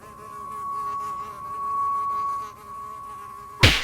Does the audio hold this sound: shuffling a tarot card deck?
no